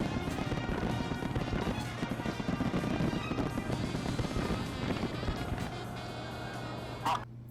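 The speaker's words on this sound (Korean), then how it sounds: "지금 폭죽을 터뜨리고 있는데" Fireworks are set off at a North Korean military parade, a dense continuous crackle and rumble of bursts with crowd noise, fading slightly toward the end with one sharp pop.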